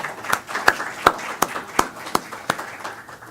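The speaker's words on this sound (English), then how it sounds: "let's give these gentlemen a round of applause" Applause for chapter officers at a CCIM Georgia chapter meeting comes across as sparse, slow claps, about nine sharp, evenly spaced hits over a few seconds, close and distinct.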